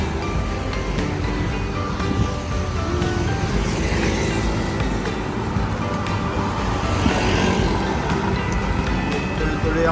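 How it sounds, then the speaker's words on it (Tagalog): Steady roar of heavy road traffic, with many cars and trucks passing continuously along a busy road near a former farm area, loud and unbroken throughout with no talk. "Papansin nyo, napakarami ng sasakyan."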